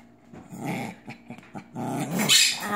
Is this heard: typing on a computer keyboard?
no